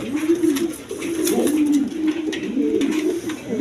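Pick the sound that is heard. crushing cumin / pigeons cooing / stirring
pigeons cooing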